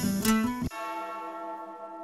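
A single bell tone from a song rings out with a clear, sustained decay after a brief burst of music cuts off.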